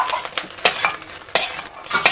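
Fish roe frying in hot oil in a pan, with a soft sizzle under repeated, rhythmic scraping stirs of a spatula against the metal, close and clear.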